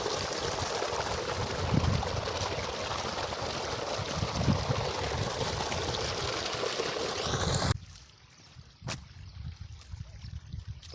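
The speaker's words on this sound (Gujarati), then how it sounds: "અહીંયા પાણી માપસર પડે છે કેવું પાણી" Irrigation water pours steadily into a cotton field, a loud, continuous rushing and splashing that fills most of the clip before stopping abruptly, leaving quieter ambient sound with a brief tap.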